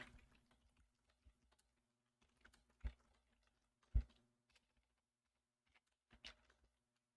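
A computer keyboard is typed on in sparse, quiet bursts of key clicks, with a few louder taps and long pauses, in a quiet room with no talking.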